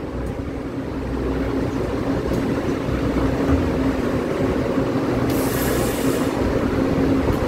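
Two-car DRC diesel railcar train in original livery, departing Jingtong on the Pingxi line: a steady engine drone and low rumble that grows slightly louder and holds, with no voices.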